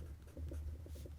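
Marker or chalk writing on a classroom board during a grammar lesson, soft faint scratchy strokes in short repeated bursts over a low hum.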